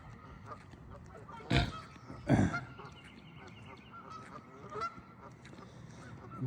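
Two loud, close geese honks burst out within a second of each other, followed by fainter scattered calls from other geese around an outdoor pond.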